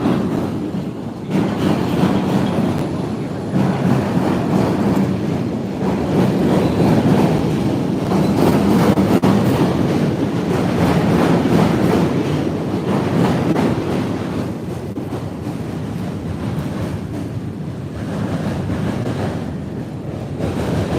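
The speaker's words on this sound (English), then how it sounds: "Y'all hear that train?" A long, steady rumble of a train rolling past in the distance in downtown Chicago, heard from a bridge, blended with gusty wind buffeting the microphone; no talking.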